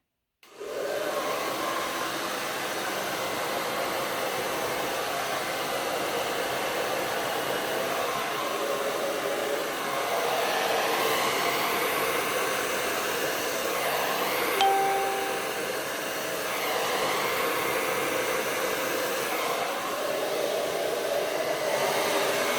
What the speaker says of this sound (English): I'm going to use my hair dryer and try on low first to see if it'll blow out the way I anticipate in my head